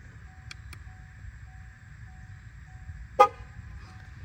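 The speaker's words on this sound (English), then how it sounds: "It should honk one time on each tire" A 2021 car sounds a single short horn toot to confirm a tire pressure sensor reset, one brief clear honk in the middle over a quiet steady background with a faint earlier click or chirp.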